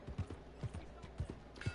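Horse hooves clip-clop in a quiet, steady rhythm of soft, low thuds, roughly four beats in under two seconds, as a horse walks in the Western video game Red Dead Redemption 2.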